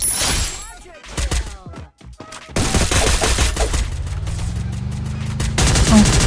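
Rapid bursts of automatic gunfire from a Free Fire battle royale match, loud and close, firing in several volleys with short gaps, with a vehicle engine droning underneath and players talking over the shooting.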